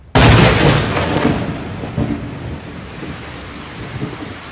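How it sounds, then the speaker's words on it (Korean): A sudden loud thunderclap cracks open a stormy scene, then rolls and rumbles away over steady heavy rain, with no voices. "뇌성이 크게 울리고 번개가 번쩍이면서 우박이 내렸으며"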